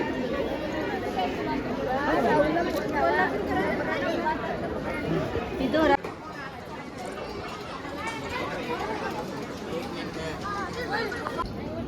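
A crowd of devotees waits in the darshan line at the Adamapur Balumama temple near Kolhapur, a dense, steady babble of many overlapping voices and shuffling close around, with a clear voice speaking over it.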